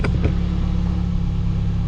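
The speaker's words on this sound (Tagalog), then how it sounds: "Ayan guys, napaandar na natin ang ating kotse." A car engine idles steadily just after starting, a close, even low rumble with a brief rev-like burst at the start; the car is young and lightly used, with about 31,272 km on the odometer.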